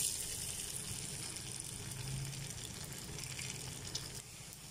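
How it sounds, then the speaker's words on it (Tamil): Rice murukku dough frying in hot oil for Diwali snacks gives a steady, soft, bubbling sizzle that runs without a break, fairly quiet and close. "எண்ணெய் நல்லா சூடாகிடுச்சு. இப்போ முறுக்கு போட்டுக்கலாம்."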